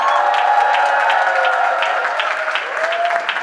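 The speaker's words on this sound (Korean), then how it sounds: "큰 박수드립니다." Steady, dense applause from a large audience at the Basic Income Party's founding convention, sustained and fairly loud for the whole stretch with no voices over it.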